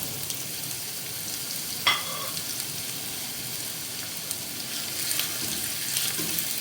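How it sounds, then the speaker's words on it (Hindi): Crushed garlic frying lightly in a pan as a steady, soft sizzle, with a brief clatter near the two-second mark and a few faint stirring scrapes toward the end. "ये मैं इसमें डाल दूँगी। इसको हल्का सा हमें फ्राई करना है।"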